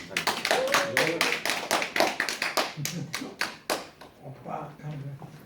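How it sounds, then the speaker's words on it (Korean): Audience applause welcoming a guest lecturer at a Korean seminar on free print and e-book publishing: a run of fairly loud, dense clapping from a small room of people, with talk and a voice heard over it, the clapping thinning out toward the end. "박수로 환영해 주시면 감사하겠습니다."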